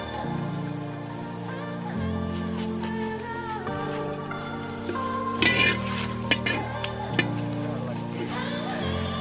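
Ripe banana and jaggery sizzle and fry in hot oil, a steady bubbling crackle with occasional stirring clinks, under a continuous tonal background.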